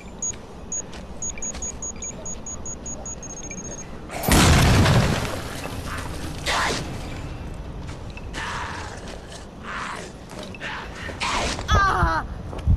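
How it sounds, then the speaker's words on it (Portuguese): Bomb exploding in a zombie video game, a loud sudden blast after a run of electronic beeps, followed by creaking and scattered game noises, with a voice speaking briefly now and then. "Vou colocar uma bomba aqui."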